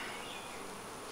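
Honeybees from a crowded hive in a box keep up a faint, continuous buzzing hum with no break.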